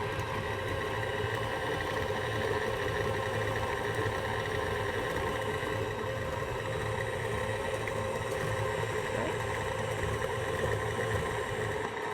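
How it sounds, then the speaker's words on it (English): An electric mixer motor runs steadily while flour is slowly added for spiced molasses cookie dough, giving a continuous, even mechanical hum with no breaks and no voices. "Okay, motor back on. We're gonna slowly add the flour."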